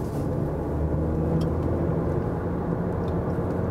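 Seat Arona engine accelerating on an open road, a steady close drone that swells slightly and holds without pause.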